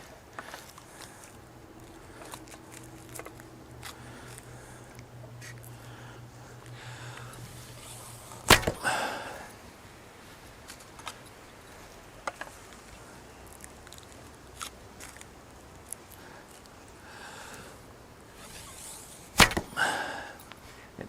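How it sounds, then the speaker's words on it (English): Arrows loosed from a 90-pound war bow, with two sharp, loud impacts standing out from quieter outdoor background and smaller scattered ticks between them. "And at 90 pounds, that arrow zips pretty quick."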